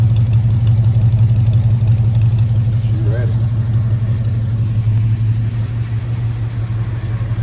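A stock Ford F100 truck engine idles steadily with its exhaust dumping right behind the wheel, a continuous low rumble held close and loud for the whole stretch, with a brief faint voice-like trace partway through.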